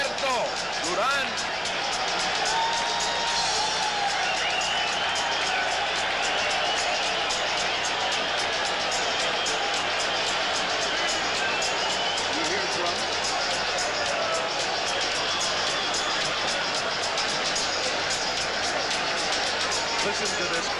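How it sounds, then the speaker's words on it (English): A packed boxing arena crowd roars for Roberto Durán's ring entrance before his 1980 fight with Sugar Ray Leonard, a dense, continuous wall of cheering and hubbub heard from ringside beneath a commentator's voice. "Listen to this crowd."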